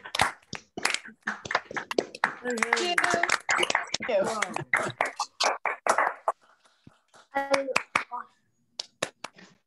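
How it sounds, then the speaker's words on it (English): Participants on a video call clap and cheer for a speaker, producing scattered, uneven bursts of applause mixed with overlapping voices. "please just give a shout out of applause to Dr. Liz Kloner for preserving this land."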